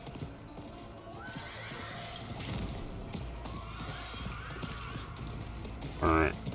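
Horse hooves clip-clopping steadily and a whinny from a mount ridden in the video game Diablo IV, mixed with game ambience and mechanical clicks, with a person talking over it.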